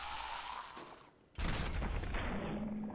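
A high-damage rifle in the Fallout 4 shooter fires in a loud, dense burst after a brief lull, the shots running together into a sustained roar that carries to the end.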